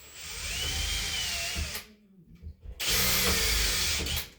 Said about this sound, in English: I could even take the drill, just do the tiniest little pilot.